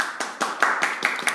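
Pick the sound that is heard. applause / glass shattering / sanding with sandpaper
applause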